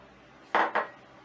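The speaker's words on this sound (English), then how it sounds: "let's mix up the coleslaw" Spoon scraping and clinking twice against a bowl while coleslaw is mixed, two short, close hard knocks about a quarter second apart over a quiet background.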